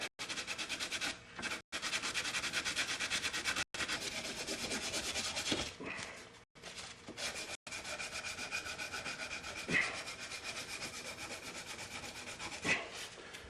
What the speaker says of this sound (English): We'll see if we can use sandpaper to go the rest of the way.